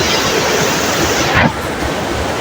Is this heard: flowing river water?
yes